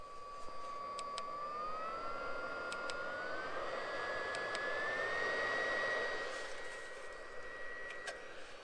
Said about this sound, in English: So I've just realized you can change the power of the fan.